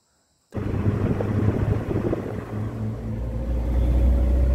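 A car passes on the roadside beside an Amazon forest reserve, a steady loud rumble that swells as it nears, then a deep engine drone builds toward the end.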